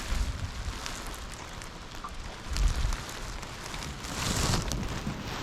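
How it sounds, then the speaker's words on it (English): Rain falling at a lake during fishing makes a dense, steady pattering hiss that swells louder in a couple of spots, with no voices. "What the rain looks like, don't it?"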